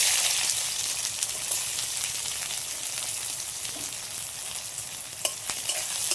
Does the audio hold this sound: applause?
no